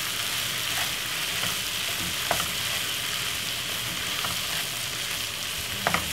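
Corned beef and vegetables fry in a hot pan with a steady, close sizzle and crackle, and a few light scrapes of stirring break through now and then.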